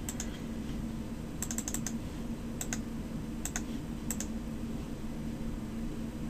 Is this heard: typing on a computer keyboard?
yes